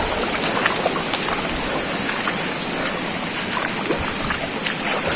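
Steady water of a small, shallow stream on a hiking trail in General Nakar, Quezon, rushing and babbling continuously at close range, with faint splashes and trickles on top and no talking.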